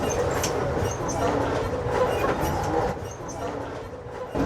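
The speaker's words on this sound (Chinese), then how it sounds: "我们2个人现在在非常摇晃的火车之中" A long-distance passenger train between Seattle and Los Angeles sways hard as it moves, giving a steady, close rumble with rattling, clacking car noise throughout.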